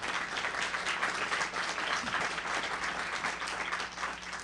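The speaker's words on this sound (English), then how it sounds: "hey, round of applause" A crowd at a book signing and conversation event applauds in a dense, continuous wash of clapping that holds an even level throughout, with a faint steady hum underneath.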